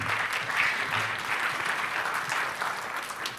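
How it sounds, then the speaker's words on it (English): An audience at Cannes Lions 2018 applauds to welcome a speaker from L'Oreal, a dense, even wash of clapping from many hands sustained without a break. "Give them a great round of applause"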